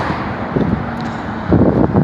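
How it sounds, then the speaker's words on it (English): Outdoor wind buffeting a handheld microphone beside a Social Security Administration building, a steady low rumble with stronger gusts swelling near the end, no talk over it. "I'm going to try to get to a place where it's not so windy"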